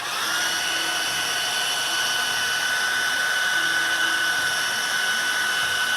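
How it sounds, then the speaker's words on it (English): A hair dryer blows continuously while drying a client's hair after a haircut fade, a steady loud whine with a high tonal hum, alone without talk. "You just wanna blow dry his hair and brush it."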